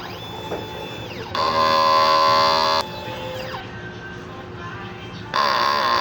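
A 30 cm DTF printer runs a printhead cleaning cycle: a whirring motor rises and falls in pitch, and louder steady pump-like buzzing stretches switch on and off in turn.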